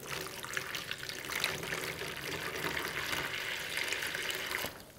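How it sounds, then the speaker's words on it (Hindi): A jug of water is poured into a bowl holding a Moto e32s phone for a water test, a steady, soft splashing and trickling stream that runs for several seconds before stopping abruptly. "सो एक जग पानी डाल देते हैं पहले।"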